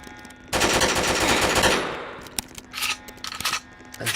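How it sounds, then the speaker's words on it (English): Rapid burst of gunshots inside the US House chamber gallery, a dense loud volley for about a second followed by scattered sharp cracks and clangs fading into echoing pauses. "gunshots rang out in the chamber, in the gallery"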